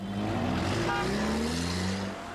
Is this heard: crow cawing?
no